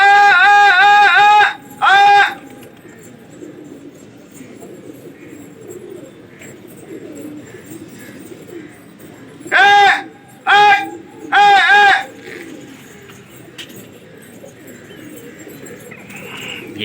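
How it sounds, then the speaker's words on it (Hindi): Pigeons scuffle on a Lucknow rooftop during a pigeon fight, giving short loud bursts of rapid repeated calls at the start and again in a cluster later, separated by long stretches of low background hiss. "ये दोपहर भाई के कबूतर आ रहे हैं"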